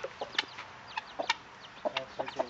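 A mother hen with new chicks makes soft, scattered clucks and peeps, several short calls in irregular bursts, close and fairly quiet against a calm background.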